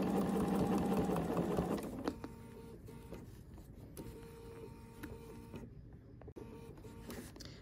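A Bernina sewing machine stitches quilt binding with the #71 foot, a steady close mechanical whir that runs for about two seconds, then stops, leaving quiet handling noises and faint clicks.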